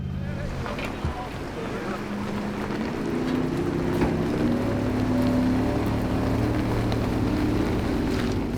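A racing jet boat engine drones steadily on a river, rising slightly in pitch, with wind buffeting the microphone and rushing water throughout.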